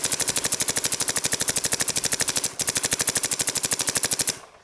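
Lurker paintball marker firing a rapid, steady burst of shots, loud and close, with a brief break midway before the burst resumes and then ends.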